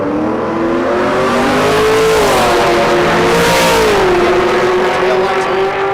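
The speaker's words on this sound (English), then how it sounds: "Larson's ride is an LS swapped 3rd gen Camaro. It's stroker as well, 400 plus cubic inches" An LS-swapped third-generation Camaro drag car with a 400-plus cubic inch stroker engine accelerating at a dragstrip, a loud close engine roar rising and shifting pitch steadily throughout.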